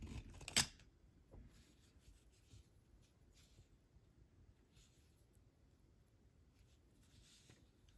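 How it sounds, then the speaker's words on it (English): Scissors snip beading thread once near the start, a quick close crisp cut while finishing beaded earrings, followed by faint rustling and handling in a quiet room. "And now we can trim the thread."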